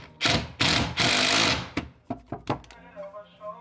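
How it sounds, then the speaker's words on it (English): A high-torque power driver sinking screws into a bowed board for DIY living-room cupboards, with a few loud whirring bursts followed by shorter clicking pulses, close by. "The torque on this driver is insane though."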